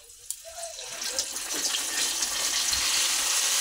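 Luchi dough slipped into hot oil, setting off a steady, rising hiss and bubbling sizzle that fills the clip, close and fairly loud, with no talking.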